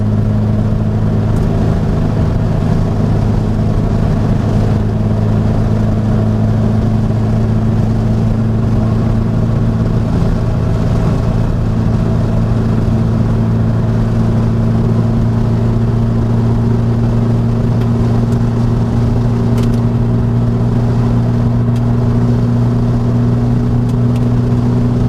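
Engine of a 1967 VW Beetle while driving, a loud, continuous air-cooled rumble up close that holds a steady drone throughout with no talk over it.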